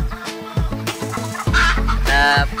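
Chickens on a free-range, odor-free poultry farm cluck loudly and close by in busy overlapping calls, with one drawn-out crow-like squawk near the end.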